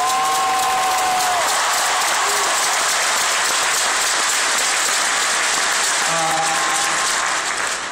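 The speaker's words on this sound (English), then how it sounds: "So let's give them a round of applause." Big arena crowd applauding at the 2011 Dallas Mavericks championship ring ceremony, a loud, dense, sustained roar of clapping with cheers and whistles, holding steady for the whole stretch.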